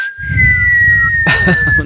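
A voice imitates a long descending whistle, like a falling bomb in a cartoon, followed by a burst of breathy noise as the whistle continues.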